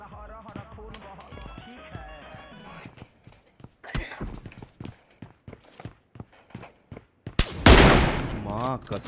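Gunfire in PUBG Mobile: sharp rapid shots in short bursts, some single cracks, then a loud closer volley near the end, with someone talking excitedly throughout.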